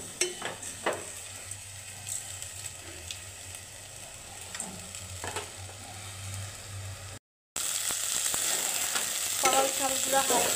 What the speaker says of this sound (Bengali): পেঁয়াজগুলো একটু ভাজা ভাজা হলে এর মধ্যে আমি পোলাও চালগুলো ঢেলে দিয়ে